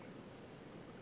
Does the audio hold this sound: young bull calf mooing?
no